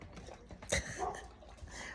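A small dog named Grayson gives a few short, soft whimpering and snuffling sounds at close range, quiet and intermittent, with a faint rustle mixed in.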